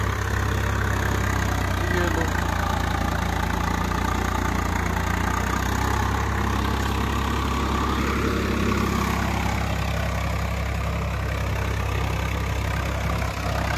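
A Swaraj 855 FE tractor engine drones steadily and loudly while pulling a laser leveller through soil, a continuous low-pitched labouring rumble that holds throughout without pause.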